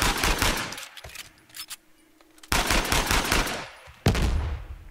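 Bursts of automatic gunfire from a firefight in the video game Uncharted 4, loud and close, with a rapid volley at the start, a quieter gap holding a few scattered shots, then two more heavy bursts.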